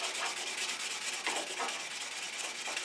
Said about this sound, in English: I'm going to take a little 150 grit and just kind of polish up that edge a little bit